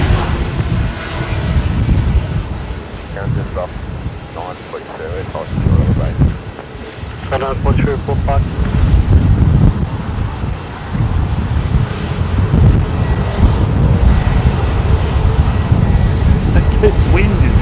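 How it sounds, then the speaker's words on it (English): Strong gusting wind at Melbourne Airport buffeting the microphone, a loud, steady low roar mixed with the rumble of aircraft engines and with people talking over it. "This wind is insane."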